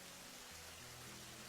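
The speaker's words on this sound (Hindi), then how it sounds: "ये बारिश तो रुकने का नाम ही नहीं ले रही है।" Heavy storm rain pours down in a cartoon scene, a steady, dense hiss of falling water that fills the whole moment with no pauses.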